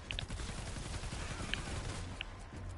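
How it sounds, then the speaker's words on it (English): Gunfire from a weapon in the video game Fortnite Save the World, a few sharp shots over a constant low game rumble, with no talking. "Dang, this gun is over here booming"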